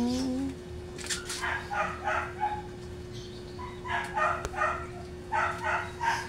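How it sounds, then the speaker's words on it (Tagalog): A large Belgian dog being bathed, whimpering and yipping in short repeated bursts near the microphone, with a steady hum underneath and brief voices at the start. "pinapaliguan ni partner yung aso naming Belgian"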